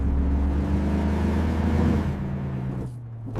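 A car's engine whirs steadily and rises as it speeds toward someone on a road, at moderate loudness, then fades near the end.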